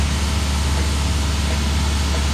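Supercharged car engine running on a new Moristech ECU, a steady loud low rumble close by with constant broadband noise and no clear rise in revs.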